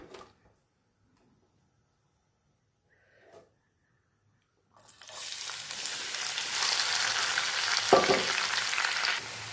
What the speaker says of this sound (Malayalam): ഇനി ഇതിലേക്ക് ഒരു 3 സവോളയും ഒരു 2 പഴുത്ത തക്കാളിയും ചെറുതായിട്ട് അരിഞ്ഞത്